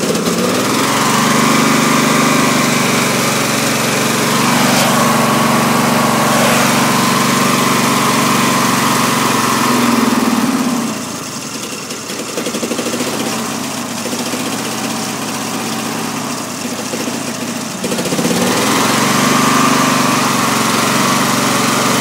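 A small tractor engine runs loud and close, a steady droning rumble that bogs down and softens for several seconds midway before revving back up to full speed.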